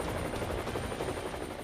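Apache or Chinook military helicopter deployed on the LAC, a steady rotor thrum with dense low rumble and faint high whine, continuous and fairly loud throughout.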